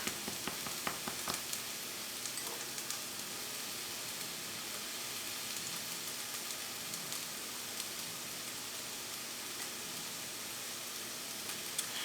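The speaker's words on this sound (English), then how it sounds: "Now I'm going to go ahead and just try and break up this onion clump." An onion clump fries in a cast iron skillet, giving a steady, dense sizzle with faint crackles, unbroken for the whole stretch and with no voices over it.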